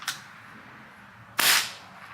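An Umarex NCR air rifle fitted with a Notos cylinder fires a single sharp, loud crack with a brief hissing tail, preceded by a faint click.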